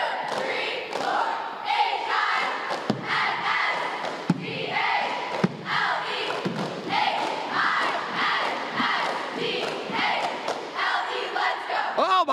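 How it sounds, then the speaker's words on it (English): A high school cheer team performs a cheer ahead of a football game, shouting rhythmic unison chants punctuated by sharp claps and thuds, loud and close. "We're going to watch the cheer team."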